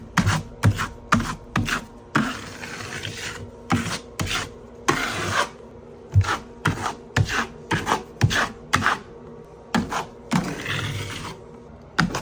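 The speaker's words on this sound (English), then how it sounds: "We're going to use some 5-minute mud in a mud pan and mix it up" Five-minute drywall joint compound is worked in a metal mud pan with a knife, giving repeated short scraping and rasping strokes in an irregular rhythm, close and fairly quiet, with no talking.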